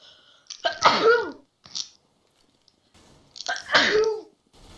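Two separate sneezes break a quiet room, the first a loud burst with a short follow-up, the second a similar loud sneeze after a pause, both close and clear with no talk.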